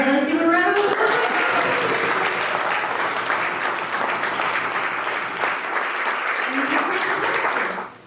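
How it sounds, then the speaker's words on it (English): A conference audience gives a sustained round of applause after a presentation, the clapping dense and even from start to finish. It cuts off sharply at the end, and a few voices are heard at the opening. "let's give a round of applause"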